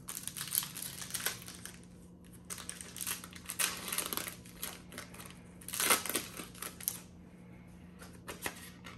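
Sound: opening a Pokémon Shining Fates card pack

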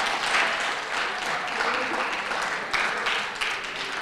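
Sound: audience applause after a debate

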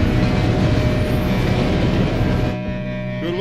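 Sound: train in Red Dead Redemption 2 video game

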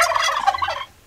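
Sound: voice imitating turkey gobble

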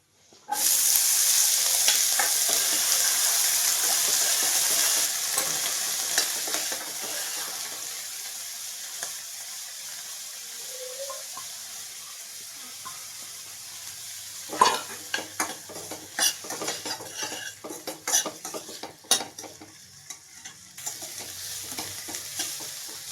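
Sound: onions frying with garlic in a pan

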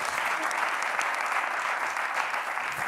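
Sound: audience applause

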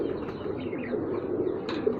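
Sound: pigeons cooing

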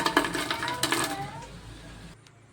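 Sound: crunching of crispy fried bitter gourd

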